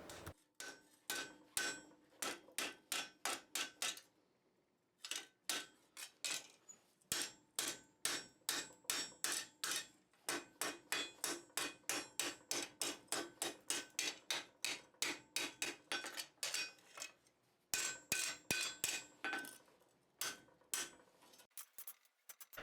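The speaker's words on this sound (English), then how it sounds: "I just need to tap the drift very lightly to get it back in position" A hammer lightly taps a steel drift set in a hinge barrel during blacksmith work, giving long runs of quick, even, ringing metallic taps close by, with a few short pauses between bursts.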